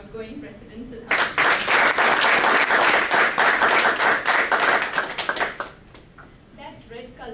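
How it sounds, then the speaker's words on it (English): Sudden burst of audience clapping at a Toastmasters installation ceremony that holds steady for about five seconds, then dies away under talking voices at either end. "Give a warm round of applause to our outgoing president, Siddharth."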